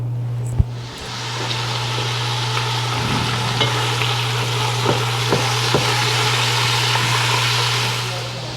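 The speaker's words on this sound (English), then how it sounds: "cook this bacon until it's pretty crisp" Bacon frying in a pan until crisp, a close, steady crackling sizzle with fine pops throughout and a constant low hum in the background.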